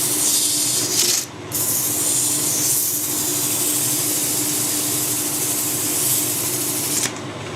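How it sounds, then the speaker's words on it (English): Emery tape is rubbed gently over a slightly pitted part of a Harrison lathe, giving a steady close abrasive hiss, with a brief pause near the start and another toward the end. "A nice gentle rub with the emery tape will take care of them."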